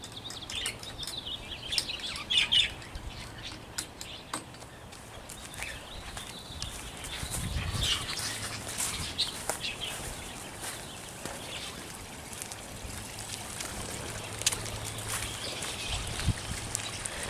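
Show birds kept by a breeder chirp and call intermittently at moderate distance, high twittering notes scattered over a steady ambient background with occasional soft knocks.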